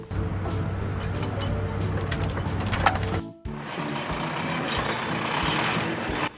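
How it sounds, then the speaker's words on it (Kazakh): A truck crane's diesel engine rumbles steadily while reversing beeps sound, the noise briefly dropping and then returning brighter and busier, with no talking. "Автокран."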